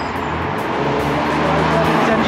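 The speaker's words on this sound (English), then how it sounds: "There's a car." A car on a road beside a wooded valley walking route, heard as a steady broadband roar close by that swells slightly toward the end, with no clear talk over it.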